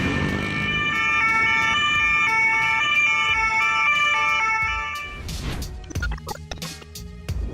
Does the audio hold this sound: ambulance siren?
yes